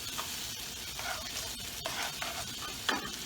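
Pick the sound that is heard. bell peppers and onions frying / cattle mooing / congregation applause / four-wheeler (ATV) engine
bell peppers and onions frying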